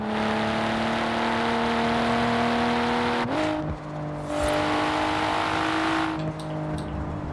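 Volvo V60 T6 engine in Forza Horizon 4 drones loudly at a steady pitch, then rises with a quick gear change and keeps humming under load, with brief shifts and dips in tone.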